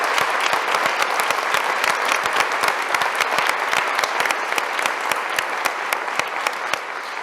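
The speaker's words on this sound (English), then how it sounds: "How about a round of applause for all 3 of our presenters?" An audience at a women in leadership event claps for three presenters, dense steady applause filling the room for the whole stretch, with no talking over it.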